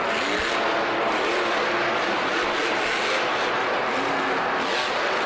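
A monster truck engine roars loud and continuous at a freestyle event in a Houston stadium, a steady heavy rumble with surging revs and crowd noise behind it.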